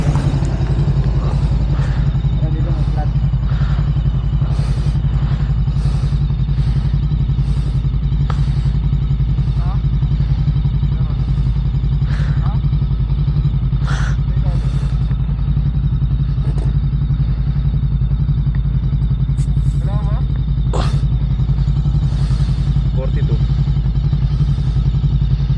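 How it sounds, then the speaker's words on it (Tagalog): A BMW R1250 GS Adventure motorcycle, stopped on a rough road in Samar with a punctured tire, idles with a steady low rumble under intermittent clatter and nearby voices talking. "Eh paano papatay yung motor ko?"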